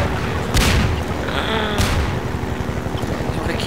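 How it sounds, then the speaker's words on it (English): Bombs explode in the Half-Life 2 video game: two heavy booming blasts land about a second apart, followed by rumbling gunfire and mechanical noise that stay loud throughout. "Even though there's bombs."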